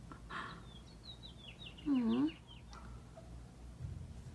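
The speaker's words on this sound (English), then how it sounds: "You hear those birds outside?" Bird calls and chirps from outdoors, distant and faint, with one louder clucking call, a brief voice heard once.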